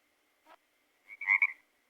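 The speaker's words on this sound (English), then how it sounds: "Frog." A frog croaks alone in quiet surroundings, one short call followed by a louder, longer double croak, close and clear.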